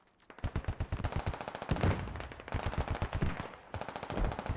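Rapid automatic gunfire in the Squad video game, a steady stream of close, loud shots rattling almost continuously in quick bursts with brief gaps.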